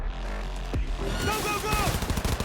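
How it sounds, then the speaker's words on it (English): Automatic gunfire from a machine gun in the video game Cyberpunk 2077, a loud rattling burst of rapid shots in the second half following a brief low thud, with faint game sounds around it. "Machine gun."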